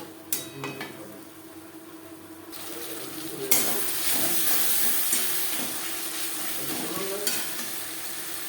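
Spice paste with onion and tomato being stirred and fried in a pan for a spicy fish curry, a steady close sizzle with scraping stir strokes and a few sharp utensil knocks, no talking.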